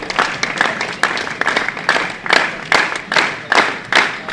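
Spectators at a men's singles medal round of a world bowling championship clap in a slow, steady rhythm, each sharp hand clap ringing out roughly every half second and building as a unified crowd beat.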